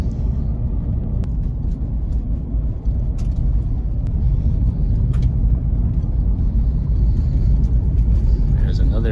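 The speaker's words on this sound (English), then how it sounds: "And we got incoming traffic" Road traffic passes along a rural road near a cemetery, a steady low rumble of vehicle engines and tires close by throughout, with faint voices underneath.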